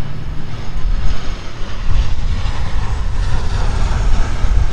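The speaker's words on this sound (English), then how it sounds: "Got them planes coming in." Airplanes coming in to land near an airport, heard from a Walmart parking lot at the end of the runway: a loud, steady low engine roar filling the whole stretch, close and continuous with no talk.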